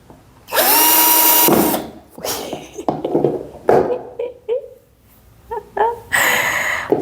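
A battery power drill whines into a pot in bursts: one long high-pitched run, several short stuttering revs with pauses between them, then another sustained loud drilling at the end.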